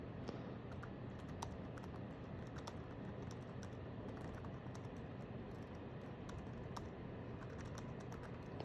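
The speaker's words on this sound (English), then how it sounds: "how should I hold it? Like type with my thumbs" Thumb typing on the small keyboard of an HP Jornada 720 handheld PC: quiet, irregular plastic key clicks tapping over faint background hiss, with no talking.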